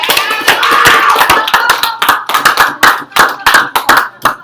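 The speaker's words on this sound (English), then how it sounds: "can I have a round of applause for everybody?" A small group gives a round of applause, loud close hand claps that start as a dense burst and thin into separate, irregular claps before fading.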